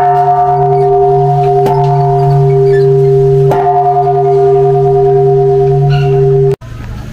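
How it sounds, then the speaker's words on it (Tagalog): A bell rung at Nami Island, Korea, gives a loud sustained metallic tone with two fresh strikes renewing the hum before it is abruptly cut off. "So, ibibell natin ito."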